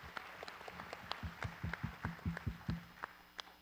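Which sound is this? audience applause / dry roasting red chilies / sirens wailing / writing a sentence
audience applause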